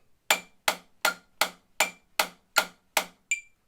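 Drumstick strokes struck at the center of a drum head: nine crisp, evenly spaced hits at a steady tempo, the last slightly softer, close and alone with nothing else audible.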